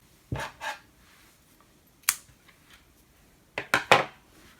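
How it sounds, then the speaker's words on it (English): Scissors snip through crochet yarn in a few separate crisp cuts: a pair of quick snips, a lone clip, then a short burst of three close cuts, with quiet pauses between. "At this point just cut the yarn and weave in ends."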